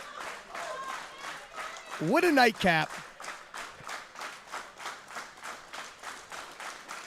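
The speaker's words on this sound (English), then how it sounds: "I've never heard a crowd clapping in unison on their feet like this for several lift after lift" Crowd at a world classic powerlifting championship, men's 83 kg deadlifts, clapping together in a steady rhythmic unison beat, loud and continuous, with a commentator's voice briefly over it midway.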